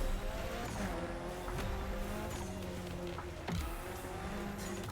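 Engine of a car in The Crew Motorfest, a steady droning hum with shifting tones and two brief sharp transients, moderately loud and continuous with no talk over it.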